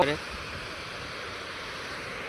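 Water pours steadily out of the opened gates of the overflowing Shetrunji Dam near Palitana. It makes a continuous broad rushing roar throughout, with a brief louder burst at the very start.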